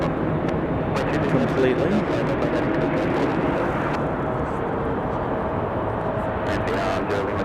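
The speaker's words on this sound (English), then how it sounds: "the CRJ 900LR coming in from Austin, Texas. That one about to touch down" A CRJ 900LR airliner in from Austin touches down on the runway at Raleigh-Durham airport, a loud, steady broadband jet roar heard at a distance with a brief voice over it.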